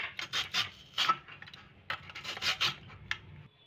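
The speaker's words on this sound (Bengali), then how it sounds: "হাতে চাপ দিয়ে আমি এইভাবে কাটারে কাটছি" A raw potato is pressed firmly by hand and rubbed across a cutter, giving a run of close, rhythmic rasping strokes in short repeated bursts with brief gaps between them.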